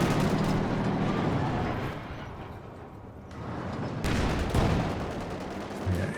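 A Teller mine detonating in the World War II strategy game Company of Heroes 2, heard as a loud, sustained roar of blast and battle noise with a sharp renewed burst partway through.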